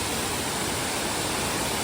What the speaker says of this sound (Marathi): तिथे एक छोटासा धबधबा वाहतोय बघा आणि हा मुख्य धबधबा आहे